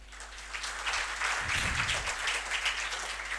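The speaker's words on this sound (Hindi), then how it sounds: "पहले इनके लिए ताली बजाओ।" A crowd claps and applauds steadily, a dense wash of many hands that swells briefly and continues evenly throughout.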